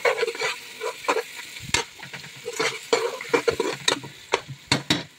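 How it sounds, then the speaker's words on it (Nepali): Onion, garlic and whole spices frying together in oil for an Arabic meat dish, soft sizzling broken by irregular scrapes and knocks of stirring, close and fairly quiet. "अब यसलाई पियालो हुने गरेर सँगै भुट्नु मजाले।"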